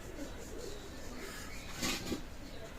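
Pakistani pigeons, kept as a pair, coo softly through a dull background hiss, with a slightly louder burst of cooing near the end.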